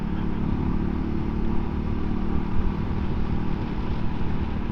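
A MUTT DRK 250 motorcycle engine runs steadily at close range, a continuous droning rumble that holds an even level throughout with no talk.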